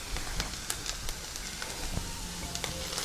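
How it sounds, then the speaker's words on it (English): Potatoes searing in a hot sauté pan give off a soft, steady sizzle with faint crackles, quiet and alone. "So we're going to let it sear"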